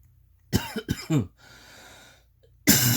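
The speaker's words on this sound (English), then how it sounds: "just with my coughing, and I'm really sorry" A person coughs several times in quick bursts, then a short raspy breath, followed by another loud cough at the end.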